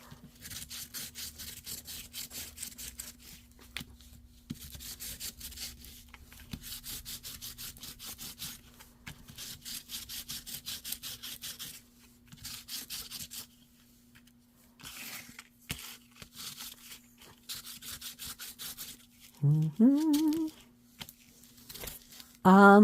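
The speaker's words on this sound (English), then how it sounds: "We'll sand on this one a bit, and then we'll see about covering or inking them." Paper ephemera for a junk journal being sanded, a rhythmic rasping scrub in repeated strokes, near and moderately loud, pausing briefly before a voice speaks near the end.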